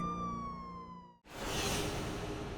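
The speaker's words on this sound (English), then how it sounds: "She watched as the police loaded Arthur into the back of the car. The flashing lights of the police car faded into the night as they drove away." A police car siren wails with a steady tone, cuts off abruptly midway, and gives way to a harsh whooping noise burst, loud and close, with no speech.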